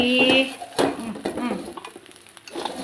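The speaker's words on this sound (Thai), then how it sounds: "มื้อนี้ก็เลยเป็นทอดไข่" Eggs frying in a pan give a close sizzle mixed with scraping and clinking of a utensil against the pan, uneven and bursty, with voices talking over parts of it.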